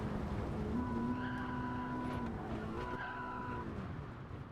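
Race car in a racing video game braking hard, tires squealing in two sustained skids of a second or more each, heard alone with engine hum underneath.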